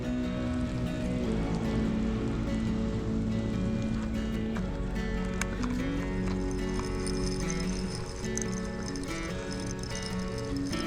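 Pouring rain at a lake makes a steady, dense, continuous hiss with constant patter, loud and unbroken throughout and with no voices.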